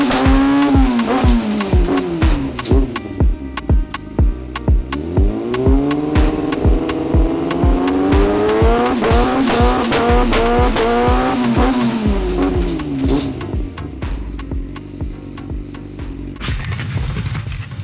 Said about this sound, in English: now it was time to put the bike through its gears to make sure that it's all running correctly